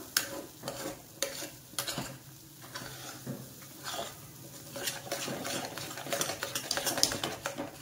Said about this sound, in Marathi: गुठळ्या आधी मोडून घ्यायच्या गरम याच्यामध्ये तुपामध्ये.